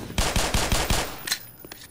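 Rapid bursts of gunfire in the video game Black Mesa, five loud close shots in quick succession followed by a couple of fainter sharp reports as the firing trails off.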